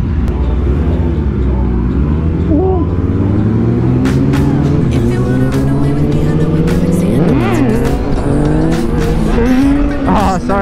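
A Yamaha FZ-09 motorcycle engine revs hard for a wheelie. The loud, close roar holds steady, then climbs in pitch through repeated throttle bursts, with sharp transients scattered on top.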